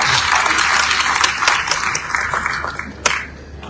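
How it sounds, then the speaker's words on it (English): An audience at a youth leadership event applauds the young panelists, steady full clapping that fades a little, ending with one sharp clap. "Please clap for them."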